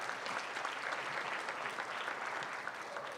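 An audience at the University of Northwestern Ohio centennial closing ceremonies gives a round of applause, a steady, dense patter of many hands clapping at even volume from start to finish.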